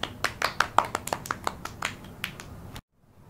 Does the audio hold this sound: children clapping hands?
yes